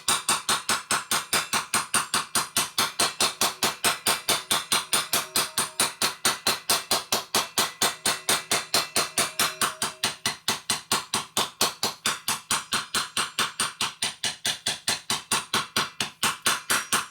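Dense, steady run of small hammer taps straightening a 1955–65 Linkert air cleaner panel for a Harley panhead/XL, close and loud, evenly paced throughout with no talk.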